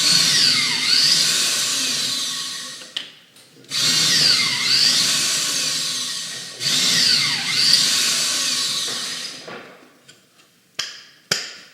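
A power drill bores pocket-screw holes in wood for a custom newel post, three loud bursts of about three seconds each with short pauses between, close up, followed by a few sharp ticks.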